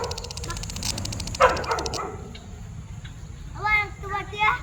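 A puppy kept as a house pet barks and yips from a nearby home in Kerala, heard outdoors during a walk. A few short barks come near the start, and voices talk later on.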